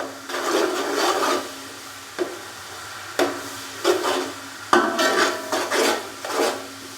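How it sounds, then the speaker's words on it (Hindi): Whole spices, including cinnamon pieces, lightly fried in a pot: a loud series of rasping scrapes and stirring strokes with short pauses, alone with no voices. "साबुत खड़े मसालों को हल्का सा फ्राई कर लेंगे।"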